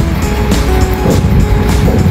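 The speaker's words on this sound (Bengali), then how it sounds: "ইঞ্জিনওয়ালা যে নৌকাগুলি হয় সেইগুলি" A loud, close engine-powered picnic boat on a river at Kashimpur, Gazipur chugs steadily, with splashing water and rhythmic bursts of noise.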